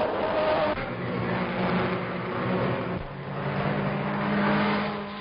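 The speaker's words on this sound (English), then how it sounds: "The 16 drivers are off on the 50-lap journey, a distance of 45 miles." Italian-built Sicilia race cars pulling away together at the start of a 50-lap road race, engines droning and revving steadily at moderate distance, a continuous dense roar with no talk over it.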